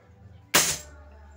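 A single sharp, loud pop like a small toy gun firing, from a homemade Filipino bamboo toy gun (paltog), standing out against quiet background hum.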